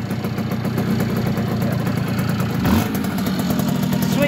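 A Yamaha FS1E moped's small engine idles steadily with the choke off, a continuous close, even putter throughout, with a brief word spoken over it.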